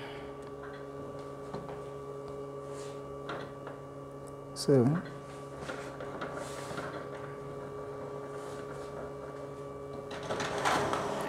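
An office printer runs while making a copy: a steady electrical hum with faint ticking, one sharp mechanical clunk partway through and rising whirring near the end. A voice speaks a single word near the start.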